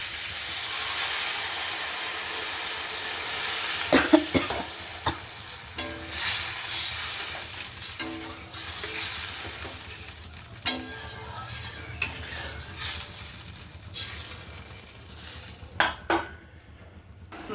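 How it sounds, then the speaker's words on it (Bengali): Water poured into a pan of fried spices hisses and steams, a steady sizzle broken by clinks of a spoon stirring against the pan over several seconds, with no voices. "জল দিয়ে দেবো ঝোলের জন্য।"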